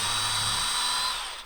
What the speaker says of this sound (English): just rotate this down and drill into that at a nice angle